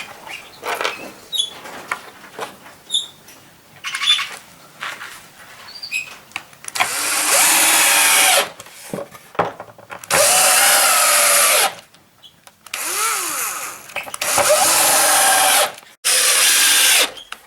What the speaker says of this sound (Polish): Ściankę mocujemy wkrętami.